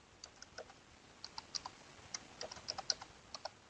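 Computer keyboard being typed on to enter a long passphrase, a string of quiet, close key clicks in quick irregular bursts with short pauses between them.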